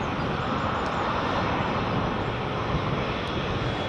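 A JetBlue airliner takes off at Edinburgh Airport, giving a loud, continuous broadband jet roar that stays strong and even throughout with no voices.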